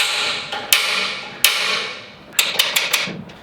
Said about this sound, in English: Punch those holes.